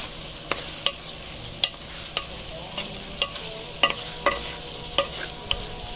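Fried okra and chillies are stirred in a pan, with a spoon scraping and clinking in sharp, irregular knocks over a soft background sizzle.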